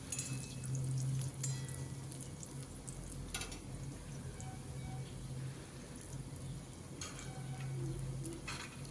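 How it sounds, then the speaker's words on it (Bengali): Garlic frying in a pan while cooking bathua greens: a constant hissing sizzle throughout, with occasional faint scraping and clinks of a utensil and a low background hum. "রসুনগুলো প্রথমে লালচে করে ভেজে নেব।"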